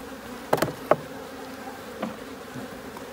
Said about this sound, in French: Donc déjà, on a des abeilles.